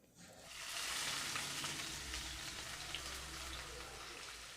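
Chicken curry with violet brinjal cooks in a covered pan, giving a steady soft sizzle and bubbling crackle that swells in after a moment and continues evenly, fairly quiet and close.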